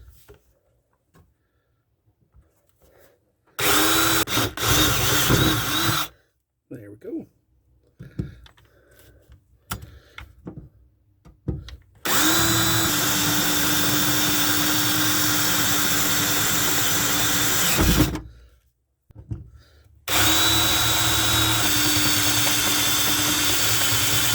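A power drill whirs in several bursts, loud and close, drilling holes while installing an interior tire carrier in a Jeep Grand Wagoneer, with short silent gaps between runs and a long sustained stretch of drilling.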